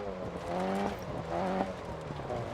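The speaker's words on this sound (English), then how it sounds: "You can hear the car losing traction on gravel and on tarmac" A rally car on gravel in the Dirt Rally racing game, its engine droning and revving steadily while the tyres slip for grip, a continuous close mix with no voices.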